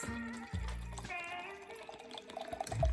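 A drink is poured from a bottle into a big glass, the liquid gurgling and glugging in short bursts at close range before a brief clink and trickle, with no talking.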